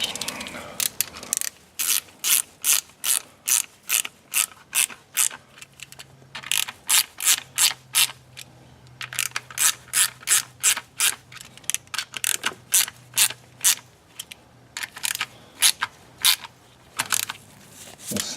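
A ratchet tightens bolts on a Porsche in rapid bursts of clicking, loud and close, with short pauses between runs as the wrench resets and a low hum sitting under some stretches.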